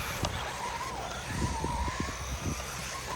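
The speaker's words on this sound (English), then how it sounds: "This thing's wicked in the snow, I'll tell you. Look at that, look, sitting there spinning on the ice." Car wheels spin on icy snow, giving a steady whining, grinding engine-and-tire drone with faint clunks underneath and a wavering pitch, heard close with no talking.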